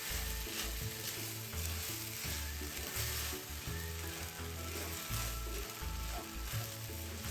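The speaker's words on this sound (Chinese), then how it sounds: "一直拌炒至锅底收干" Rice stir-fried in a wok with dark soy sauce gives a steady, loud sizzle, with repeated scraping strokes of a spatula against the pan, continuous and close with no voices.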